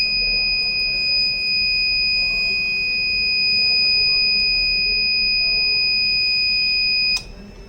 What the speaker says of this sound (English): That's why we can see the buzzer alerts.